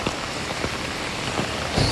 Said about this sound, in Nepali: ओकिनावामा यसरी ठुलो पानी परेको छ